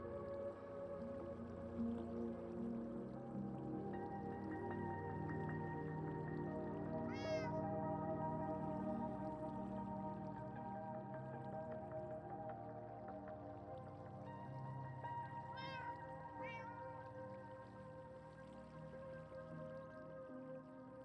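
Cats meow in the Minecraft video game, two or three short distinct mews standing out over a constant dense bed of game ambience and music.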